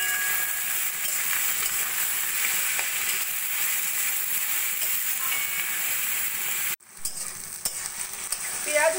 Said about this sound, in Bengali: পেঁয়াজ হালকা সোনালি করে ভেজে নিয়েছি